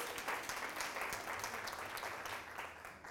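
A seated audience at a dignity and respect workplace talk applauds to welcome people with disabilities, the clapping even and moderately distant, holding as a continuous wash.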